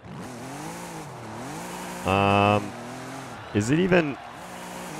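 A Volkswagen Golf built as a rear-wheel-drive drift car in Forza Horizon 5 hums with steady engine drone, then rises into two short, loud revving bursts while someone talks over it.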